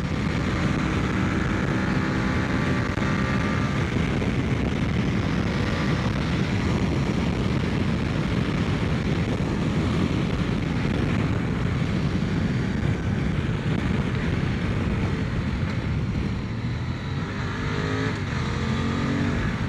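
QJ motorcycle engine droning steadily while riding, loud and close, mixed with constant wind rush across the full stretch with no pause.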